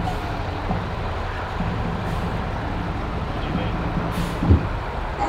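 Fire trucks rolling through a small-town festival parade in Burden, Kansas: a low, steady engine rumble with an air-brake hiss, a sharp thump late on, and faint crowd voices in the background.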